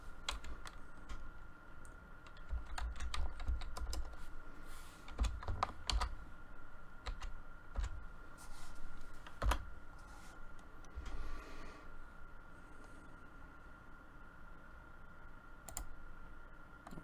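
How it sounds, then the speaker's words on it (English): Quiet, irregular clicking of fingers typing on a computer keyboard, keys tapping in quick bursts with short pauses between. "Pardon my typing for just a moment."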